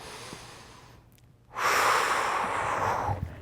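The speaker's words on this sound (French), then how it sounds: "On se mérite une bonne respiration." A person takes a deep breath during a floor workout, a long loud exhale of rushing air after a softer inhale, close to the microphone with no talking.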